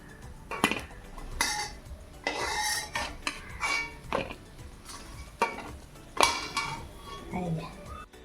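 Fried coriander leaf pakoras are lifted out of a pan with a metal utensil, making a string of scraping and clinking knocks against the cookware, quiet and close, with faint oil sizzle and occasional speech.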